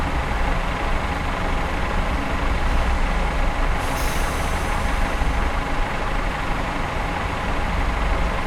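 Train brakes go on in Train Simulator 2015 on the Riviera Line: a steady, loud hiss of air over a constant rumble, with a brief sharper burst of air partway through.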